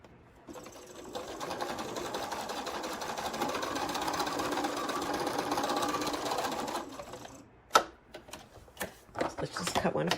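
A sewing machine runs steadily for several seconds while stitching quilt pieces at an angle, a close even whir that stops abruptly, followed by scattered handling clicks and fabric noises.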